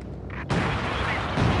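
Artillery firing in Company of Heroes 2 during a 3v3 online match: a sudden loud blast breaks in about half a second in, then rolling battlefield rumble continues, with another swell of noise near the end and no talk.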